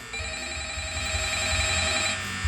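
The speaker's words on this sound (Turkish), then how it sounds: "telefon." An electronic telephone ring tone chirps continuously at a steady pitch, moderately loud, over a low background rumble.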